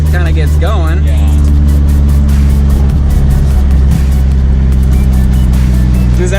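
A 1984 Nissan Skyline R30 engine while driving, a loud, steady low drone from inside the car with a brief rise in pitch early on, and people talking over it.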